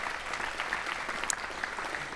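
Audience applause for filmmakers at the 2015 International Youth Silent Film Festival award show: a dense, steady wash of clapping from a crowd, sustained at even loudness for the full two seconds.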